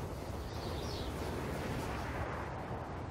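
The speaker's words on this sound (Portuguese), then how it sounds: "E é sempre divertido, eu nunca canso de ver explosão nuclear." A nuclear blast from a submarine-launched nuke in Civilization VI rumbles as a dense, sustained roar of noise, heavy and continuous for several seconds without any speech.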